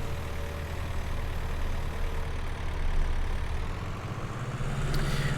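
A tractor in the video game Farming Simulator idles with a steady, low, rumbling drone that holds at an even level throughout, with no voices over it.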